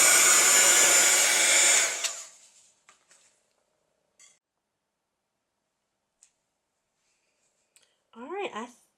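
A heat tool blows hard and loud for about two seconds while burning the edges of a textile piece, then cuts off. A few faint clicks follow, and a brief burst of voice comes near the end.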